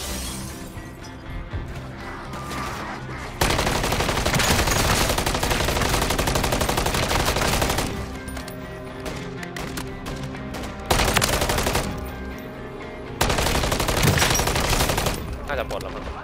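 Gunfire in Call of Duty Modern Warfare III Zombies, loud bursts of automatic weapon fire in several long stretches with sharp cracks and breaks between them, close and dense.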